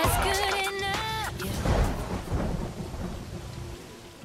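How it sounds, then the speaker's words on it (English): Heavy rain pours down with loud, close thunder rumbling through a rain delay at an outdoor show, after a brief tonal musical passage fades out at the start. "we get a little bit of rain"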